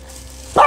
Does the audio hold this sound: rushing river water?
no